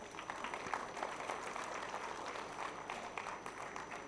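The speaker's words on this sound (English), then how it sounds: "Dear audience, please give them a huge round of applause." Audience applause after a girls' dance performance at a school annual day event, a steady wash of many hands clapping throughout at moderate level, with a faint murmur of voices underneath.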